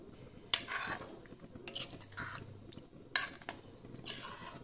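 Peas and paneer are stirred in a pan, with a few separate scrapes and light clinks of a utensil against the metal, quiet and spaced out.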